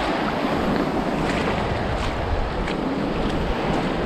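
Waves roll in continuously at Blind Pass Beach on Sanibel, Florida, a broad steady wash of surf mixed with wind buffeting the microphone, with no voices.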